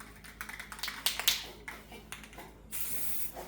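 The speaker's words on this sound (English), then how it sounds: "I had 2 coats of primer on it, and I put 3 coats of the tough coat on there from spray paint." Aerosol spray paint applying primer and tough-coat finish to a homemade rock-picking tractor implement: a series of short, sharp hissing bursts, then one longer continuous spray at the end, close and fairly loud with no talking.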